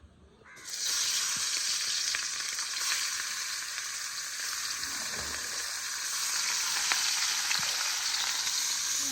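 Mixed river fish frying on a clay stove outdoors under tree shade, a steady close broadband sizzle that starts abruptly and holds loud and even throughout, with faint stirring scrapes and no talk.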